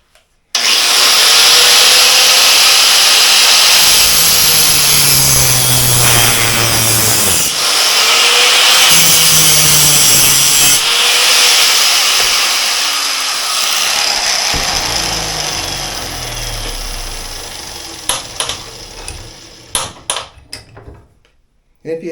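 Hand saw cutting through bicycle seat stay tubing clamped for frame fitup, a steady rasping stroke that runs continuously near and loud for most of the span before tapering into scattered scrapes and knocks, with speech mixed in.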